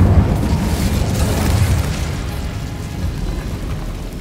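Incendio fire spell cast in the Hogwarts Legacy video game, a loud, close, booming whoosh of flame with a heavy roaring rumble that slowly thins out over a few seconds.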